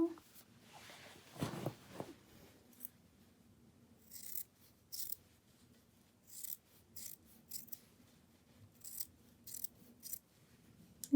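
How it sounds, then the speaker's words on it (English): Scissors trim off excess knit fabric with a series of quick, faint snips in short bursts amid quiet rustling, while someone speaks softly at the start. "Just trim off the extra."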